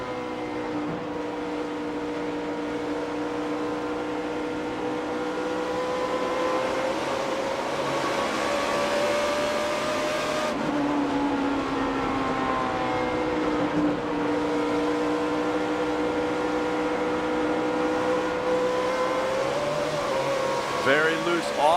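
A 2008 NASCAR Sprint Cup stock car engine at the Camping World RV 400 drones and revs steadily, its pitch rising and falling with throttle changes over a long continuous stretch.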